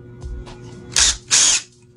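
A power drill pre-drills a treated wood deck board in two loud bursts, one short and one longer, each whirring close up and then cutting off, with quieter background noise between them.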